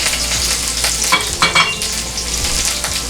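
Ginger garlic paste hits melted ghee and fries on lowered heat, crackling and sizzling loudly up close in uneven bursts with spoon stirring, no voices.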